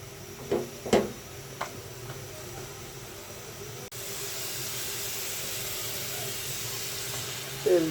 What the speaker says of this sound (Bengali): তেল দিয়ে দিচ্ছি, পেঁয়াজ কাঁচা ঝাল দিয়ে দিচ্ছি। তেলের উপর ভেজে নিচ্ছি।